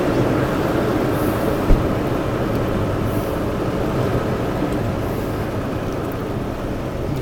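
A train passing by in Macon, Georgia, with a steady, loud rolling rumble of wheels and cars that fills the whole stretch without letup.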